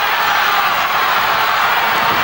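A wrestling crowd at a Big Daddy tag match roars in a continuous, loud, even wash of cheering and shouting.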